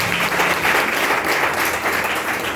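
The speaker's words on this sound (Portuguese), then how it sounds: "que as palmas louvem e engrandeçam o nome de Jesus" Church congregation applauding in praise, a dense, steady wash of many hands clapping throughout, loud and close with no gaps.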